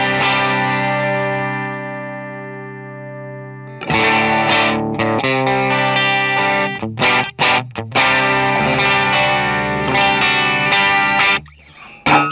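Electric guitar played through a Centaur overdrive pedal into an ACS1 amp simulator: a sustained distorted chord rings and decays, then choppy strummed chords with sharp stops and restarts, loud and clean of talk.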